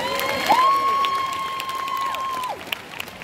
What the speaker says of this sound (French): Une dernière main d'applaudissement, s'il vous plaît.